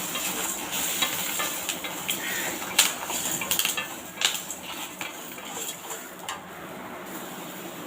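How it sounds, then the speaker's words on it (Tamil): Urad dal, curry leaves, a little tamarind and garlic cloves frying in a pan, a steady sizzle broken by several spoon scrapes and clinks while being stirred. "இது ஒரு பக்கம் நம்ம கிளறி விட்டுக்கலாம்"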